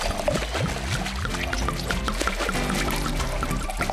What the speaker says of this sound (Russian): Добавим еще немного воды!